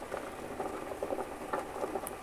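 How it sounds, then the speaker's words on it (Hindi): Water and boiled potatoes are poured out into a strainer, giving a soft, quiet patter of splashing and dripping with small irregular bursts that continue throughout. "स्ट्रेनर में ड्रेन आउट कर लेंगे पानी।"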